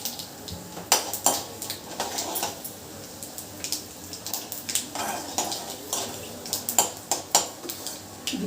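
Grated beetroot is stirred into a pan with turmeric, dried red chilli, chana dal and urad dal, giving repeated scraping and clinking of a spoon against the metal over a faint sizzle, close and steady, with no voices.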